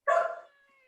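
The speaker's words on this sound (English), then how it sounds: "now the dogs are going mad." A dog gives one loud, close bark that rings briefly and fades within half a second.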